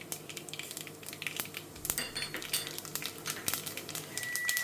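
Whole spices such as cinnamon and cloves stirred and fried in a pan with mustard seeds, urad dal, cumin and fennel for Coimbatore-style rice and dal: a steady run of utensil scrapes and clinks over a soft sizzle, close and fairly quiet.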